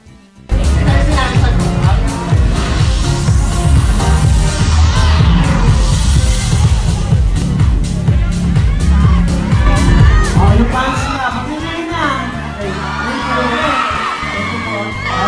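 A loud crowd at the ASAP stage shouts and screams continuously, a dense wall of cheering voices and whoops close to the microphone that persists throughout.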